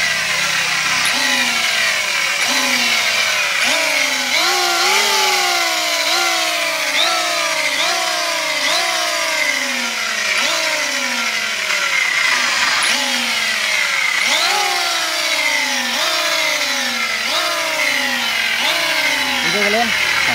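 An electric wood planer with freshly sharpened blades runs steadily, its motor whining loudly with repeated rising and falling pitch sweeps as it cuts, alongside someone talking.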